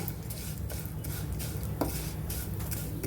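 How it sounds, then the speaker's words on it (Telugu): Vermicelli fries in ghee with a continuous close sizzle, accompanied by repeated light scraping and clinking from stirring in the pan. "సేమ్ అదే నెయ్యిలో సేమియా వేసుకొని ఫ్రై చేసుకోవాలి"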